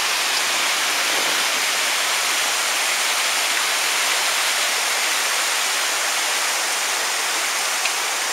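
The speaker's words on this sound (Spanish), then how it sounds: "Ya están escuchando la fuerza del río." A steady, loud roar of rushing water from a river near the Antankallo waterfall at night, heard from a suspension bridge, continuous and unbroken with no voices.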